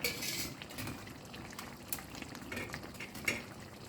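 Squid curry seasoned with black pepper bubbles steadily in a pot, a faint continuous simmer with soft pops and a few light clinks of a utensil against the pot.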